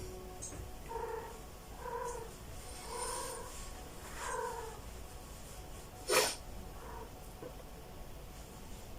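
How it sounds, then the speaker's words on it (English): A cat indoors gives a series of soft, drawn-out whining cries at roughly one-second intervals over a faint purr, with a sharp brief noise near the end; quiet and close, no talking. "Can you see this whining cat?"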